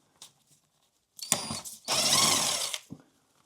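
Bolts come out of a Jaguar XJS gearbox in short mechanical bursts: a brief ratcheting turn, then a longer, louder spell of tool whirring and metal rattling, close by and without talk.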